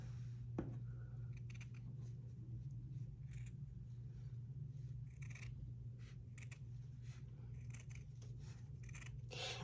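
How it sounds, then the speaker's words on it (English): Scissors cutting a paper doll template, mostly with the base of the blades, in a series of close, crisp snips and slicing crunches spaced irregularly over a steady low hum, with no talking. "I'm mostly cutting using the base part of the scissors."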